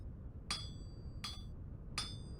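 Copper is hammered on an anvil while smithing in the video game Vintage Story: three sharp metallic clangs with a bright ringing tail, evenly spaced about three-quarters of a second apart over a low steady background hum.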